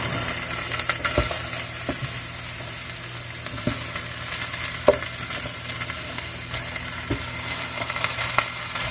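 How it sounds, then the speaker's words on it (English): Chicken and vegetable stir fry frying in oil in a pan, a steady close sizzle with scattered pops and crackles running throughout, with no one talking. "Just trying to coat everything with oil."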